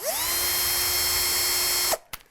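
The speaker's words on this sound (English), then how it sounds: "I'm just going to hit these with the countersink, just to break those top edges" Power drill spinning a countersink bit into the wood of a guitar kit body, a loud steady high whine held for about two seconds before winding down abruptly to a quiet stop.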